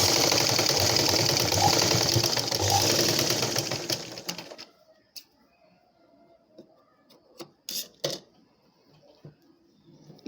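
A sewing machine stitches a blouse, giving a rapid, steady mechanical clatter for about four seconds before stopping, followed by a few faint taps and handling sounds.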